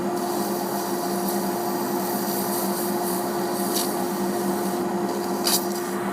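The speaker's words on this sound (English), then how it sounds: "take some sandpaper and just kind of sand it down a little bit" Sandpaper rubbing down the tenon of a handmade pipe stem produces a steady, close scratchy rasp with a few sharper strokes standing out.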